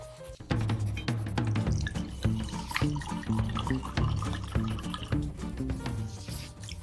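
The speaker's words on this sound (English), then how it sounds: "Measure out a half a tablespoon of vanilla, half a tablespoon of lemon juice, 1 tablespoon of Chardonnay." Vanilla, lemon juice and Chardonnay poured into a measuring cup for crepe batter, with a close, gurgling trickle of liquid filling the cup in short continuous pours.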